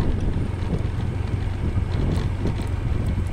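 Strong wind buffets the microphone in a continuous, rough roar while riding a motorcycle on a rural road in Laak, Davao de Oro, loud and unbroken throughout with faint knocks beneath.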